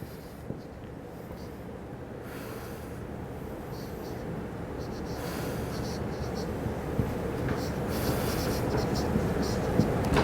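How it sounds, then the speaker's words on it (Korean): Chalk or a marker scratches steadily as equations are handwritten on a board during a lecture on fluid flow and ship resistance, with soft continuous strokes under a low room hum. "대충 생각나는 대로 써볼게요."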